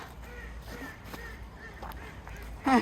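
Ducks being fed call across an outdoor space as they fly in, faint at first, then a loud, close burst of honking quacks near the end.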